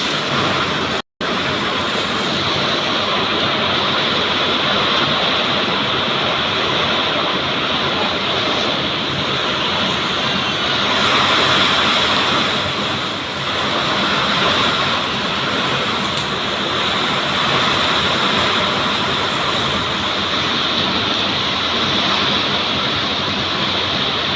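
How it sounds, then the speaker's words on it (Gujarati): Heavy rain floods a farm field, and water streams across it in a loud, unbroken rushing roar that holds steady for the whole stretch, close by and without talk. "ભૂકા કાઢી નાખ્યા વરસાદે."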